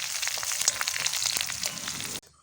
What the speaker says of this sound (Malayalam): ഇനി ചെറുതായി ഒന്നുകൂടി ഇളക്കി കൊടുക്കാം